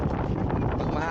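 Strong wind at a beach buffets the microphone with a continuous, loud, roaring rush, steady through the whole short moment.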